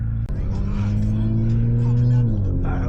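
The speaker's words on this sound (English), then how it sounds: "I'm about to let this car warm up a little bit" Straight-piped Infiniti Q50S idling while warming up, a loud steady low exhaust drone with a brief sharp knock near the start and faint voices in the background.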